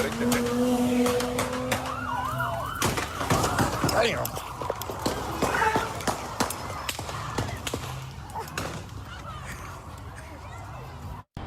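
An ambulance siren wails with a rising and falling tone at a block party shooting scene in north Charlotte, partly masked by people talking and an agitated crowd nearby.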